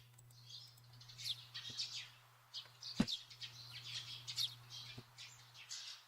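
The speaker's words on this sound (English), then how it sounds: "I can hear little bird chirping" In the Korean visual novel Haru no Oto, little birds chirp and squawk on a spring morning, giving scattered high calls and one sharper snap, all faint over a constant low hum.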